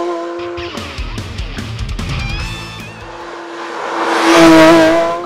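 A 2022 Porsche 911 GT3 with a six-cylinder boxer engine revs hard toward 9,000 rpm, its loud, rising engine note swelling and falling with shifting pitch and climbing to a bright, screaming peak near the end.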